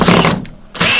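A power drill drives a screw to mount a cleat into window trim for a cellular shade. There are two short, loud whirring bursts close by, separated by a brief pause.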